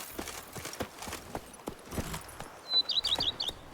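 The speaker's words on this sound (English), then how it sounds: "Even a horse drops if you ride it at a constant gallop." A horse in The Witcher 3 video game, in the Blood and Wine expansion, beats out quick rhythmic hoofbeats at moderate volume, while a few bird chirps rise briefly near the end.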